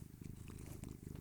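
A male cat purrs close to the microphone, a soft continuous low rumble with a steady pulsing rhythm, faint but alone with no talking.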